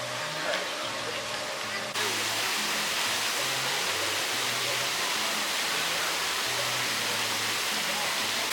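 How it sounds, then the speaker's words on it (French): A well-known cascade fountain in Parc de la Ciutadella, Barcelona, a constant loud hiss of falling water that fills the scene, with faint low voices murmuring beneath it. "là on est à l'une des fontaines, cascades plus connues ici, la plus connue ici à Barcelone"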